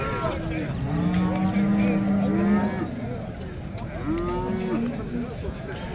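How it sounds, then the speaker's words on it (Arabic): Cows mooing at the Saturday livestock market in Settat, Morocco, including a mother cow, with two long, loud, drawn-out moos against a steady murmur of crowd and market noise. "هاد الخيرات تاعت البقرة الوالدة"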